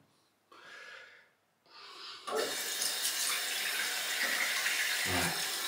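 A tap runs for a final rinse after a wet shave. Two short bursts of water come first, then a steady, full splashing flow into the sink that carries on to the end, with a brief low thump near the close.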